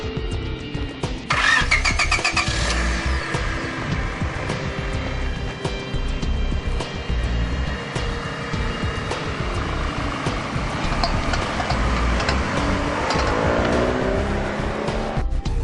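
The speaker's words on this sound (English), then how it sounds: "It has a bad passenger side drive shaft, so I'll let you hear it" A 1997 Honda Civic with a bad passenger-side drive shaft cranks and catches at about the one-second mark, then idles steadily and close-up, with no voices.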